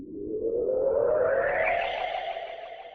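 A stretched toy piano note swells into a rising, smeared riser, drenched in reverb and shaped by filtering, sustaining steadily for about three seconds with a hazy, chorus-like shimmer and no voices.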